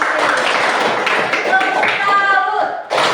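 A class of students clapping their hands together in a classroom, a dense, steady patter of many hands that carries on for about three seconds, loud and close, with some chatter mixed in.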